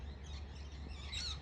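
Lorikeets in a tree on a clear day give faint, distant chirps and high calls, quiet against a steady low background rumble.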